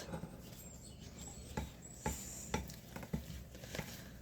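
A spoon stirring a mixture in a bowl during Easter dinner prep, faint soft scraping with a handful of light, irregular clicks and taps close by, no talking.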